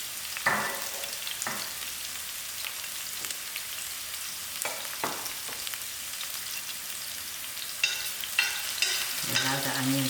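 Onions frying in oil in a saucepan over moderate heat, a soft continuous sizzle with occasional louder crackles and a few stirring scrapes, building slightly toward the end.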